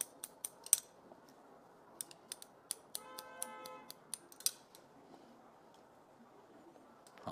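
Scissors snip at the ends of hair during a haircut, producing a string of light, sharp clicks that fade out toward the end, with a brief tonal chime partway through.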